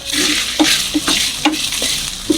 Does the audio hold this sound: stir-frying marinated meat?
yes